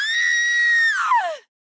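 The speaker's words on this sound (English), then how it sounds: "a blood-curdling scream reached his ears" A single high, sustained, blood-curdling female scream from an audiobook scene, loud and close, holding steady before trailing off and cutting to silence.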